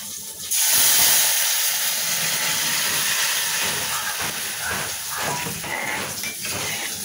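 Hog plums hit hot oil already fried with mustard seeds and chili, setting off a sudden loud hiss that settles into steady, crackling sizzling.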